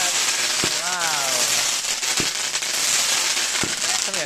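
Bonfire night fireworks going off outdoors, three sharp loud bangs spaced about a second and a half apart over a constant hissing crackle, with a voice rising between them.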